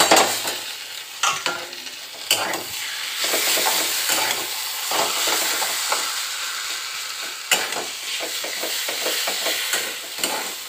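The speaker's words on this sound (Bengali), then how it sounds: "আস্তে আস্তে নাড়তে নাড়তে তেল পেলে সব খুলে যাবে।" Potatoes with onion and chilli fry in oil, a continuous close sizzle with irregular scraping and knocking of a spoon stirring against the pan, loud and near.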